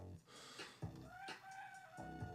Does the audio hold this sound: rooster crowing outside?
yes